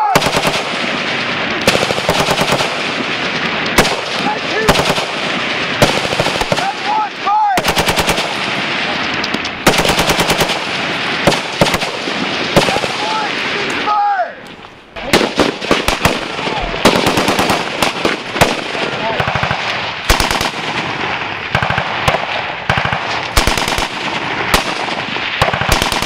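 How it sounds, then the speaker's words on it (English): Heavy, relentless rapid gunfire rattles in long, dense bursts with brief pauses, loud and close, amid a battle scene involving PzH2000 and M109 Paladin self-propelled howitzers. "Prep the rounds. Fire! Gun two, fire!"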